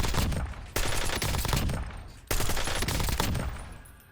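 Sustained automatic gunfire from the MK weapon in a video game, loud and continuous with dense rapid bursts, a brief break before a second long volley, no talking over it.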